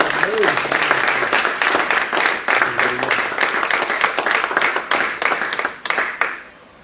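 A church congregation claps together at a French-language teaching service, a dense, steady round of applause close by that carries on for several seconds with a brief voice near the start before fading out at the end.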